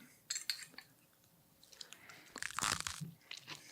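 Close-up eating of Chinese chow mein with chopsticks, with soft crunchy chewing, wet mouth sounds and a few light clinks of utensils against a dish, rising to a busier burst midway.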